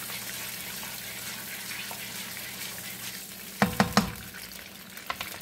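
Chicken Alfredo sauce ingredients sauté in a pan with a steady, soft sizzle throughout, joined near the end by a few sharp clatters of a utensil against the pan.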